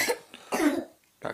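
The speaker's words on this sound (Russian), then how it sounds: "не кашли" Two or three short coughs from one person, close and dry, separated by brief pauses in a quiet room.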